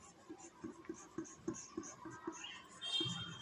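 Pen writing on paper during an engineering drawing lecture on sections of pyramids, with quick scratchy strokes and taps in an irregular rhythm, close and soft, no voices.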